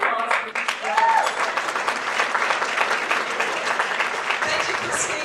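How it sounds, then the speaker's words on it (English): An audience applauding at the Torch Awards, with steady, full clapping from a crowd throughout and a voice audible through the applause. "Round of applause for this."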